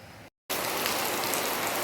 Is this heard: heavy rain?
yes